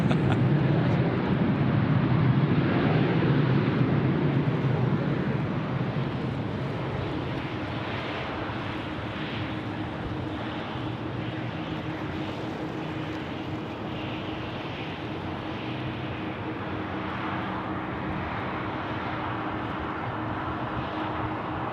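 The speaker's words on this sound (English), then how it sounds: "we're going to have Qantas 12, the big A380, joining the pattern now. It's going to be landing runway left." A Qantas Airbus A380 on approach to land at Sydney Airport, a broad jet engine roar that is loudest at first and then settles into a steady distant rumble over the remaining stretch.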